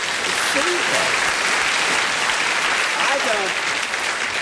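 Loud, steady audience clapping in a television game show studio in 1981, with voices faintly audible beneath the continuous applause.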